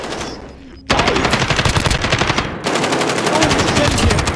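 Loud, close automatic gunfire in Call of Duty Modern Warfare Warzone, a dense rapid rattle that starts suddenly and continues in long sustained bursts with only a brief dip in between.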